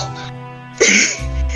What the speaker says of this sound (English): I don't know what happened to my throat just then. It just like I had to cough.